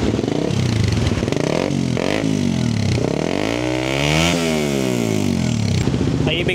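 A Suzuki GSX 150 motorcycle engine fitted with a silencer exhaust revs up and down repeatedly, its pitch sweeping rise and fall, with a muffled, steady exhaust rumble close by.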